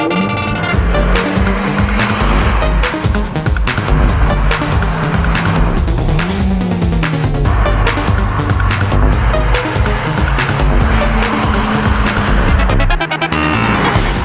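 A Ford Fiesta ST with a manual gearbox, weighing around 1,100 kilos, is driven hard on a track, its engine roaring loud and steady throughout while the tires squeal intermittently through the corners.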